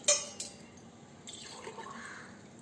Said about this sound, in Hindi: तो पहले हम सस्पेन में रख देबे 3 गिलास पानी